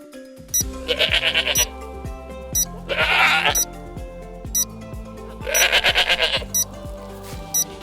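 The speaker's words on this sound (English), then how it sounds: "It's a goat." Goat bleating loudly and near, three drawn-out wavering bleats spaced a couple of seconds apart, over repeating background music with tinkling chimes.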